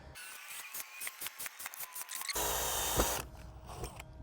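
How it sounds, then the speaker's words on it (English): A drill whirs in short, rapid pulses, then runs continuously for about a second before winding down, heard up close, drilling pilot holes in a window frame. "I'll do a pre-drill on the window frame part"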